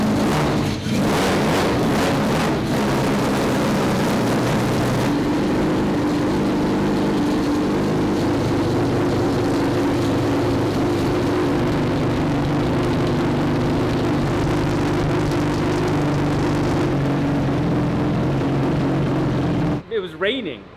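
A turbocharged 12-rotor engine running on ethanol revs hard and loud in a long, steady, droning roar that holds for about twenty seconds, with a rougher start and a brief drop near the end.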